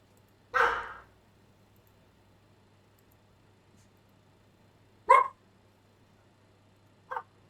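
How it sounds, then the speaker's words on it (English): Three separate dog barks from indoors with long quiet gaps between them: a loud, fairly close bark, then a second sharp one, then a shorter, fainter yip, all over a faint low hum. "They're barking, so now he's barking."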